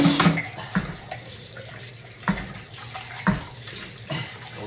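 Tap water splashing over vegetables being washed at a sink, a steady rush broken by irregular louder splashes and clunks as the produce is handled close by.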